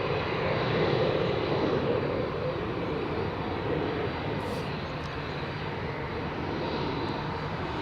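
Delta Air Lines Airbus A350 taking off at Amsterdam Schiphol, a loud, steady jet engine roar that fills the whole stretch and eases only slightly toward the end.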